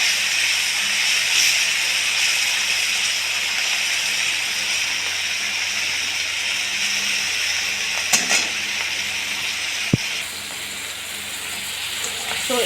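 Prawns frying in hot oil in a wok, a steady broadband hiss and sizzle running throughout, with a couple of brief utensil clicks near the end.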